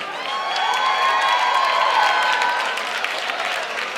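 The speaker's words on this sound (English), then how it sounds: "Let's join together in giving a big shout out and applause for our appreciation of Justine." A high school varsity football crowd applauds and cheers, a steady wash of clapping with whoops and shouting voices rising over it, heard from within the stands.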